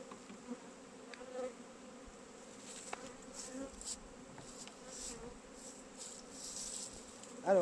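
Honeybees buzzing around an opened beehive fitted with a queen excluder, a soft continuous drone with occasional louder passes of individual bees near the listener.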